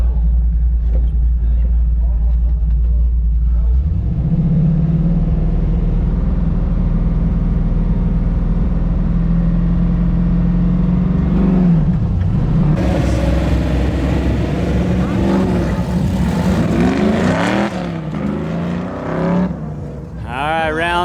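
A car runs an autocross lap at a tire-sponsored autocross challenge, its engine droning loud and close with rising and falling revs through shifts and turns, while a voice talks over the running engine.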